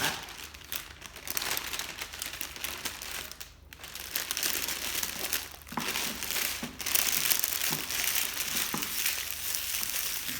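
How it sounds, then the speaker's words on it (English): Cellophane crinkles and crumples while being wrapped around a Christmas candle gift, a continuous close rustling and crackling with no talk. "Get yourself a bit of cellophane. Get your cellophane"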